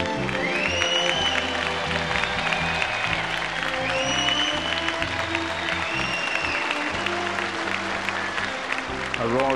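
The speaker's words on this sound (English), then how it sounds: "A roar of approval from the crowd" Audience at the Miss World 1973 pageant applauding Miss Philippines, dense sustained clapping with a roar underneath, continuing over music throughout.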